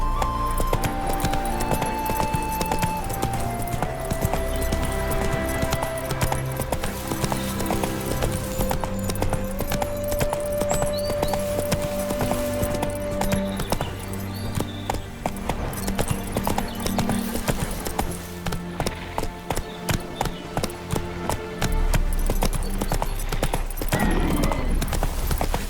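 Horse hooves clip-clopping steadily in the video game The Witcher 3 in Novigrad, a continuous rhythmic trot over game music, with brief harness jingles and a neigh.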